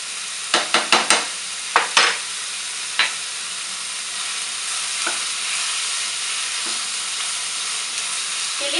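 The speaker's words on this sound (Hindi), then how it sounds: "मशरूम को थोड़ी देर के लिए हम सौते करेंगे" Mushrooms sauté in a hot pan with a steady, soft sizzle, opened by a quick cluster of sharp spatula knocks and scrapes, then a few scattered stirring taps over the continuous hiss.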